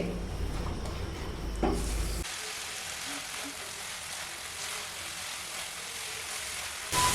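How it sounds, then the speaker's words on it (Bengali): Spice paste fries in a pan over medium flame, a soft, steady sizzle with faint stirring scrapes, heavier at first and then quieter, heard close with no talk. "এইভাবে মিডিয়াম ফ্লেমে 2 মিনিটের মতন রান্না করব, যতক্ষণ না মশলার মিশ্রণটি থেকে জলটা শুকিয়ে মশলাটা কষানো হচ্ছে"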